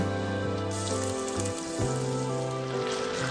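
Pork sizzling with softened onions and garlic in a hot pan, a steady close frying crackle with no talk.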